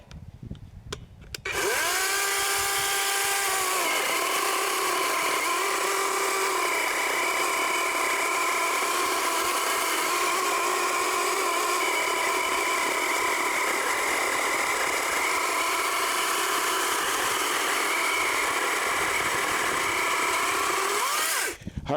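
Wild Badger 12-inch battery chainsaw biting into a cold 8-inch tree, a loud, close, sustained high whine after a short spin-up, holding steady under load for the full cut before easing off at the end.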